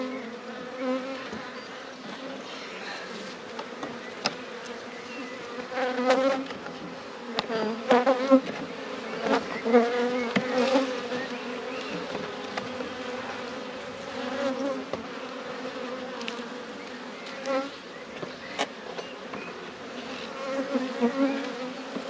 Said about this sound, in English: Bees are a bit more vocal, which tells me